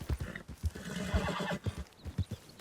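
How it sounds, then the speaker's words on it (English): A horse in Red Dead Redemption 2 whinnies in fright at a predator, the call rising over a quick run of hoof clip-clops that thud close and loud before and after it. "Horse is scared from a predator."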